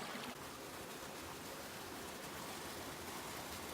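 Continuous rushing of creek water in Ice Box Canyon, Red Rock Conservation Area, Las Vegas, a dense steady flow close by with no voices.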